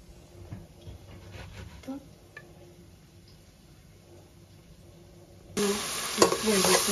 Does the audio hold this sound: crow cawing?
no